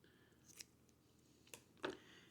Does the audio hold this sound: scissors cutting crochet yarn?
yes